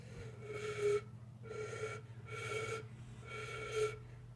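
Breathy flute tone attempts, four separate blown notes each about half a second long with a steady pitch, spaced by short pauses, over a low continuous hum.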